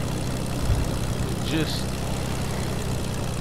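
Steady drone of a biplane's engine and propeller in a battle-royale video game, a continuous buzzing hum with a brief voice over it.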